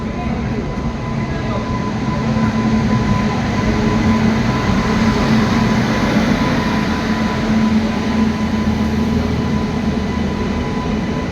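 A train at Baripada railway station rumbles steadily with a continuous rolling roar and a faint tonal hum, loud and close throughout with no pauses, like riding aboard or standing beside the moving cars.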